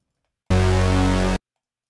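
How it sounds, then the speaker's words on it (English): A single sustained, buzzing detuned supersaw synth chord, thick and wide, held for about a second and then cut off abruptly, with silence around it. "we basically have this really big super saw synth that's just filling out all the frequencies"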